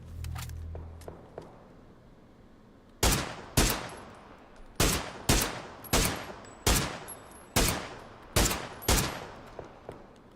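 In PUBG, a string of loud, sharp gunshots fires at fairly even intervals, about a dozen in seven seconds, after a few faint clicks and a low rumble at the start; no talking.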